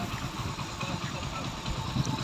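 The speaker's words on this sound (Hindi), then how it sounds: "तो आप दोस्तों इंजन की साउंड सुने" A freshly rebuilt motorcycle engine runs steadily at idle, a continuous low rumble at fairly close range with no pauses.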